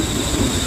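Rain pours heavily and steadily during a night storm, joined by a deep rumbling roar of thunder, loud and continuous for a brief moment.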